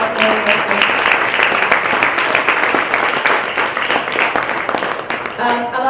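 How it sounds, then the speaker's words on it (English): Loud, sustained audience applause at a European elections hustings, dense clapping held steady with a few voices and cheers mixed in. "can I please ask for a big round of applause for everyone that's been sat so well"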